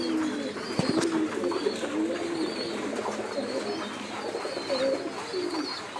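Pigeons coo repeatedly at close range while pecking at grit mix, soft rolling calls overlapping in a loose rhythm over faint scratchy background noise.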